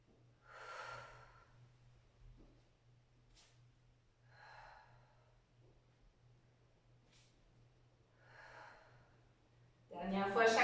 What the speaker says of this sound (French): Je prends des grandes respirations. Et j'expire à l'allongement.